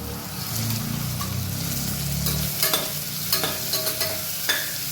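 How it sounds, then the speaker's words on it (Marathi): Ivy gourd and cashews sauté in a hot pan with a continuous sizzle and stirring clatter, while a low rumble fades out early on. "आणि मग आपण त्यात ही तोंडली परतून घेतोय।"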